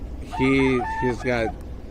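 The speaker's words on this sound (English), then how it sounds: "Chickens there." A rooster crows loudly and close at a wedding venue, one long harmonic call followed by a shorter second burst, with faint clucking fowl underneath.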